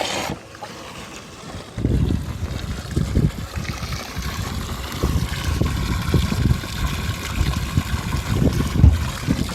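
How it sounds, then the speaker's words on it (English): A bilge pump drains water out of a bass boat hull, giving a steady low splashing and trickling wash that runs continuously at moderate level with no talk over it. "I'll go ahead and pump out what's in here."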